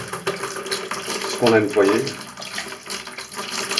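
Tap water runs and splashes while rinsing the inside and outside of a cleaned toilet cistern, a steady close wash of running water with someone speaking over it.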